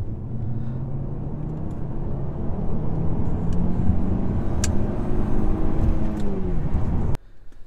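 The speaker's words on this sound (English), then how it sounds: "So I'm gonna go from second gear around this bend and then floor it" An Opel GSI pulls hard out of a bend from second gear at about 20 mph, its engine roaring in a loud, steady rising drone with building rumble for roughly seven seconds before cutting off abruptly.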